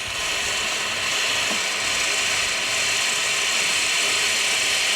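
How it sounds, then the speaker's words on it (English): A steady mechanical buzzing drone with a fast rattling texture runs continuously and evenly: the vibratory pump of a SMEG EGF03 semi-automatic espresso machine working close by. "You can hear the pop, pop, pop means that the vibratory pump is in action."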